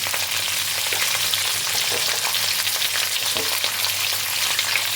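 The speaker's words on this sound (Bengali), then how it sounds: "এবার সমস্ত সবজিকে তেলের মধ্যে হালকা করে নাড়িয়ে নেব।" Mixed vegetables including beans, lightly salted, sizzling steadily in hot oil and being gently stirred, a continuous close frying hiss with soft scraping, no talk.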